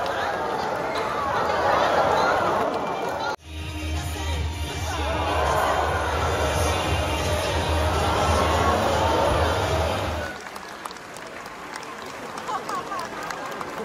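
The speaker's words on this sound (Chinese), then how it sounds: "随着海豚的精彩演出，现场观众常常有阵阵欢呼" An audience at a dolphin show in an Okinawa aquarium cheers and chatters in loud continuous waves, broken by a brief pause, then settles into a quieter crowd murmur.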